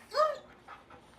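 A dog near a treadmill lets out a short high whimper followed by faint, soft panting breaths, all quiet and close.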